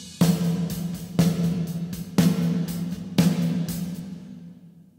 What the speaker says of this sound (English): And the snare drum with that reverb sounds like this.